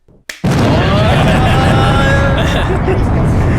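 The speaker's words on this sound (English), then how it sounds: "Big explosion right here." An explosion sound effect hits with a sudden loud boom after a brief quiet start, then rolls on as a dense, sustained rumble for several seconds.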